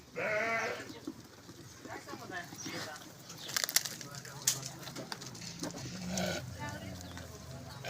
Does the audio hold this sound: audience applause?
no